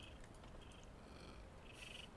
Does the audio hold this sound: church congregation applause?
no